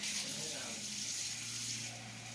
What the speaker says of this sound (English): I'm just filling up some hot water in my big measuring cup thing here.